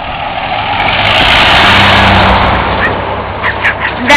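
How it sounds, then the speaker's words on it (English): A truck pulling a trailer speeds past, its loud broadband roar swelling to a peak mid-way and then fading, followed by a few brief chirpy sounds near the end. "Truck and trailer going fast."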